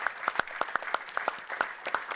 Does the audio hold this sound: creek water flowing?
no